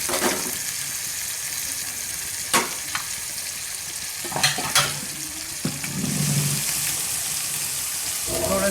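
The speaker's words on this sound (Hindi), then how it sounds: "प्याज और टमाटर की पेस्ट डालेंगे।" Onion and tomato paste frying in a pan for chana sabji, a continuous close sizzle and crackle broken by a few sharp ladle taps and scraping stirs, with no voice over it.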